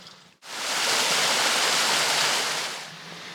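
Water pours steadily from a small fountain beside the Río Buñol in the countryside near Alborache, Valencia, a close, loud, even rush that starts abruptly and runs continuously, easing slightly near the end.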